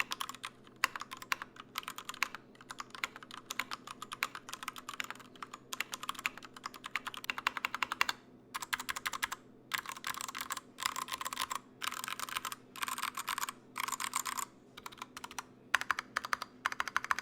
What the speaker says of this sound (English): Now without doing any modifications to the keyboard, this is what it would sound like.